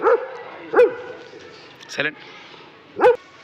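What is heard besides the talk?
dog barking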